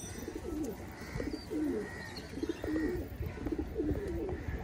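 Pigeon cooing in repeated low, rolling phrases, fairly close and steady, over a faint background hum.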